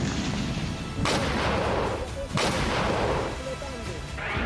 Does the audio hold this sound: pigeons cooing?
no